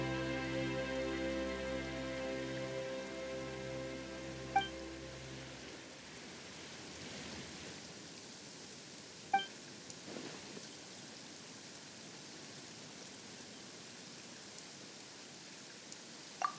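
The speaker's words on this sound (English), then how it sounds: "Why is it raining all of a sudden?" Steady rain in the video game Genshin Impact hisses softly in the background after a low musical drone fades, with a few faint drips and clicks scattered throughout.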